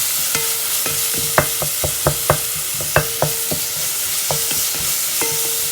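Crushed dried chilli stirred and fried in a pan, a constant sizzle broken by a series of sharp, ringing taps and scrapes of a spoon against the metal pan.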